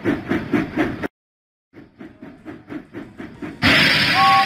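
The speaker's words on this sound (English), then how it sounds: "James puffed proudly into Farmer Trotter's farm." Steam engine James from Thomas and Friends, puffing in a children's video game: a rhythmic chuff, a short silent gap, then faster steady puffs ending in a loud burst of hissing steam.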